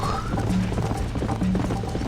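Horse hooves galloping in the Western video game Red Dead Redemption, a steady rapid clip-clop rhythm running the whole time over a low rumbling game soundtrack, fairly loud and close.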